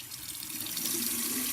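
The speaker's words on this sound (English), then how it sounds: "I'm going to turn on the water, and remember we want it to be a lukewarm" Lukewarm tap water runs steadily into a sink, a close, continuous hiss and splash with no voices over it.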